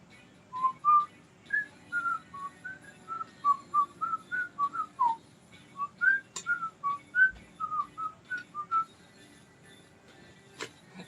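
A person whistles a song's melodic intro, a string of clear, steady whistled notes rising and falling in a simple tune over a quiet indoor room, with a couple of faint clicks near the end.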